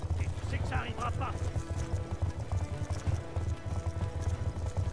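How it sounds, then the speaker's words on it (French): Horse galloping in the Black Ops 2 video game, a steady rhythmic clip-clop of hooves at close range running throughout, with a brief whinny early on and voices talking over it. "J'ai un super cheval là."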